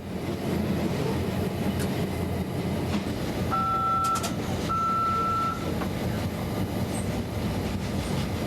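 Northbound Bessemer & Lake Erie freight train rushes past close by in a loud, continuous roar of rolling wheels and rail noise, with brief high squeals and tones partway through.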